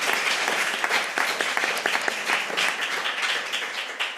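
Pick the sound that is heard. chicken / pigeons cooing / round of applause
round of applause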